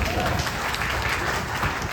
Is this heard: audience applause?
yes